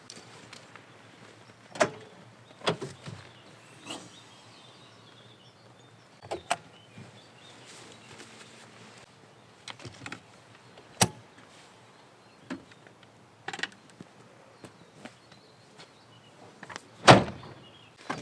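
A car's rear hatch with gas struts is opened and closed outdoors in cold weather, giving scattered sharp clunks and latch clicks separated by quiet stretches.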